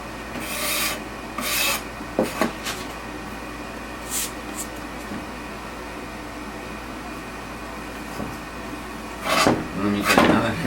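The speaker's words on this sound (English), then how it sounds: "now that I found the putty knife, this is a heck of a lot faster than it was when I didn't have the putty knife" A putty knife scrapes across wooden benchwork in rough, rasping strokes, a few bursts of scraping spaced across the clip over a quiet, steady background.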